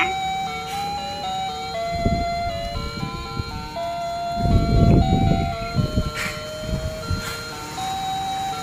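A tinny electronic ice cream truck jingle plays a bright melody from a toy, with some handling clatter underneath.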